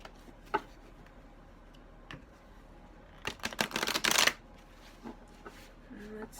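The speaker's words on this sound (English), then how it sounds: "one more shuffle." Quiet clicks and taps lead into a quick riffle of cards being shuffled, a dense burst of flutter lasting about a second, then near silence.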